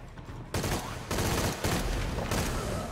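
Rifle gunfire in the Shadow of the Tomb Raider video game: dense, loud bursts of shots come in several waves, heavy and continuous with little pause between them.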